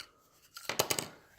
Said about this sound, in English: And what we're going to do is just cut it. So I want to take my scissors,